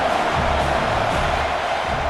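Steady stadium crowd roar from an EA Sports College Football 26 game, Kentucky against Texas A&M, building on a fourth-down play, a dense continuous wash of voices at an even level throughout.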